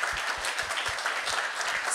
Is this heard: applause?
yes